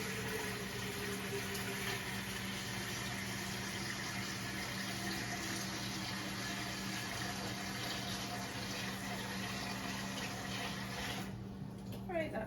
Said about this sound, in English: I'm just gonna add a bunch of water because I'm making a bunch of it.